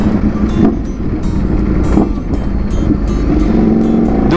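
A Ducati V4S motorcycle engine rumbles loudly and steadily close by, a continuous low throbbing drone with a faint rhythmic pulse and some wind buffeting, no speech.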